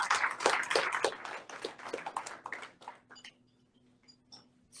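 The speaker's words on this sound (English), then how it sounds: "A big applause for" Audience applause in a concert hall before a santoor performance, a dense patter of many clapping hands that tapers off into scattered claps and quiet after about three seconds.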